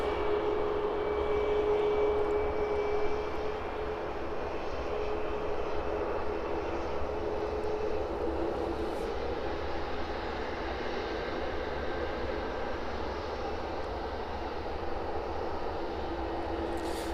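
A Jet2 airliner descends toward the airport on approach, a steady, moderately distant engine roar with a faint whine sustained throughout, no voices.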